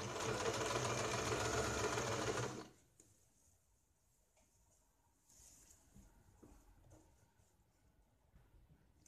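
A sewing machine runs steadily for a couple of seconds, stitching a sleeve onto a garment's shoulder seam, then stops, leaving faint handling noises and a quiet room.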